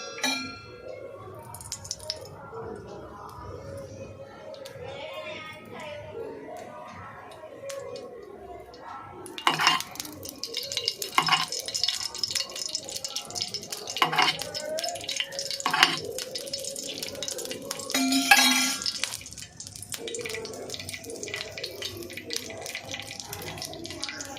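Rice-flour gunta ponganalu batter fries in oil in a village-style paniyaram pan. It is quiet at first, then a steady close hiss with scattered clinks and scrapes builds from the middle onward.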